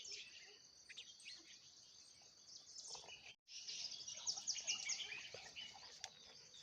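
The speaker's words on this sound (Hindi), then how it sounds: "पहाड़ों में सुबह की शुरुआत भांति भांति के पक्षियों की चहचहाहट से होती है।" Morning birdsong in the mountains: several birds chirp and trill over a steady bed of insect or cricket buzzing, with one brief dropout midway before the chorus resumes, busier and denser.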